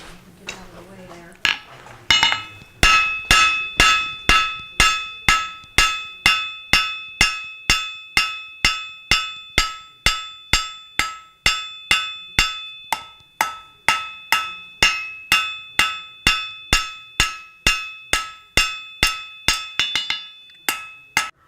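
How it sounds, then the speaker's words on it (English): A blacksmith's hammer strikes metal again and again in a steady, even rhythm, each blow ringing bright and close. Some brief talk can be heard before the hammering starts. "let's hammer some more."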